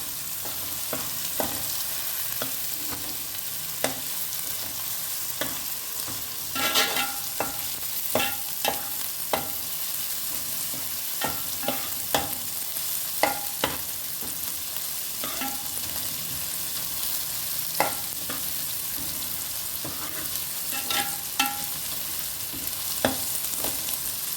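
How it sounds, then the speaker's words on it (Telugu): Fish pieces frying in a pan for a fish curry, a steady loud sizzle with scattered sharp pops and stirring scrapes throughout, no voices. "చేప ముక్కలు వేస్తున్నాను వేగింది"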